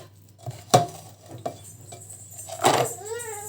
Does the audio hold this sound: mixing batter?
yes